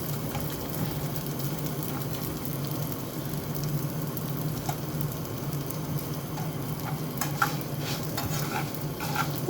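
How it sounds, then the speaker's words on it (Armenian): Pilaf being stirred in a frying pan, rice partly browned, gives a steady sizzle and fry with repeated scraping and stirring strokes of a utensil against the pan, close up and continuous with no talk. "Փլավս լավ չի կարմրում, ժամանակին չխառնեցի, մի քիչը կարմրեց, մի քիչը սպիտակ մնաց, բայց հեսա արագ կխառնեմ"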